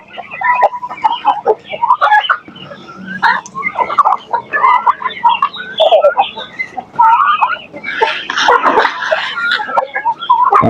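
Rhode Island Red and native chickens cluck busily and steadily at feeding time, a dense overlapping chorus of close clucks and squawks that swells into a louder burst near the end.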